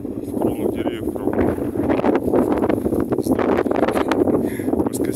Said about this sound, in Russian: Ветер прям вообще такой прям. В кронах деревьев прям.